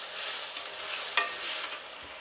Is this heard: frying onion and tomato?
yes